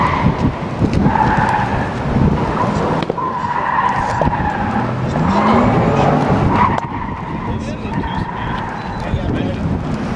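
A Porsche Taycan electric car runs a timed lap on a course, tires squealing and skidding through the corners amid steady road and wind roar, with voices talking now and then.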